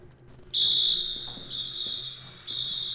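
A fire alarm in an indie video game blares after its pull station is tripped: a loud, steady high-pitched electronic tone kicks in about half a second in and holds continuously, briefly dipping and resuming, over faint game background.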